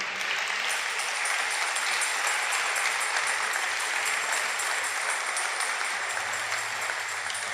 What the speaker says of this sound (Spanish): Fuerte el aplauso al Señor.